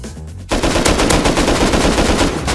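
Rapid automatic AK rifle fire in the survival game Rust, a dense, sustained burst of shots beginning abruptly and continuing loudly without a break.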